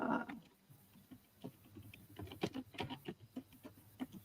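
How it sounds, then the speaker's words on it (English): Typing on a computer keyboard, with irregular clusters of soft key clicks that sound close but fairly quiet over faint room noise, and no talking. "apparently everybody can hear me typing"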